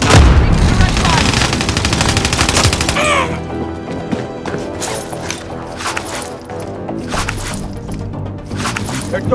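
Rapid gunfire crackles through a Battlefield match on the Alcatraz map, dense bursts of shots and impacts up front that thin into scattered pops and distant shooting, with game voice lines over the action.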